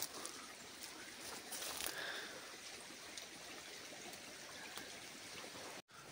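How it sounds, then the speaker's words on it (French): A small stream flows beside an old village wall among forest ruins, giving a soft, continuous trickling and rushing with faint scattered splashes. "le ruisseau."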